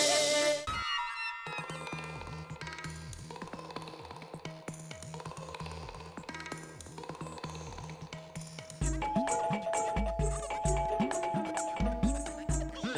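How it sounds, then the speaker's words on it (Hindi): A doorbell rings over and over in quick succession, bright chiming tones repeating steadily and getting denser and louder toward the end, heard close with no speech over it. "फायर ब्रिगेड की घंटी की तरह क्या टनन टनन बेल बजा रहे हो लगातार"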